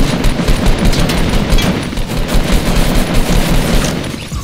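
Rapid, dense gunfire crackles in the Fortnite battle royale, loud and continuous bursts of shots filling the whole moment with little pause.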